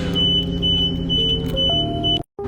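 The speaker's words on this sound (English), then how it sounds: "sorry about the beeping at the end there" A steady, high-pitched electronic tone sounds continuously over a low engine-like rumble, then cuts off abruptly near the end.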